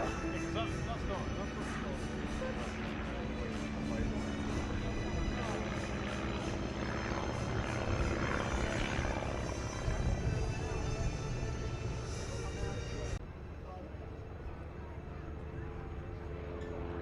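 A replica WWI Royal Aircraft Factory biplane flying at the Duxford airshow, its propeller engine a steady, loud drone that holds throughout, with a commentator talking over it before the sound thins slightly near the end.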